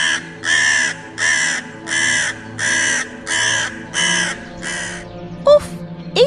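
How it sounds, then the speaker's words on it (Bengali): A crow perched on a tree branch caws loudly and repeatedly, seven evenly spaced harsh calls in a steady rhythm, followed by a couple of brief squeaky sounds. "গাছের ডালে বসে একটি কাক ক্রমাগত ডেকে চলেছে"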